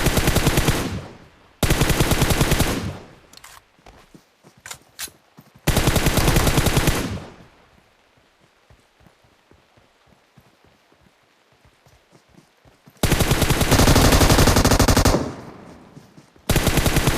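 Loud bursts of automatic gunfire in a battle royale video game fight, several long sustained volleys separated by quieter stretches of sparse single shots.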